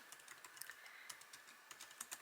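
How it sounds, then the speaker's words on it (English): Fingers typing on a computer keyboard, a quiet irregular patter of soft key clicks at close range with no speech. "So I'm going to start off with just typing in"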